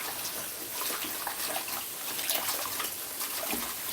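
Tap water running and trickling into a sink while juicer parts are washed and left to drain, a steady close splashing hiss with no talking.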